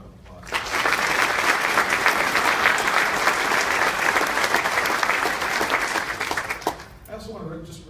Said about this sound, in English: Let's give those two chiefs a round of applause.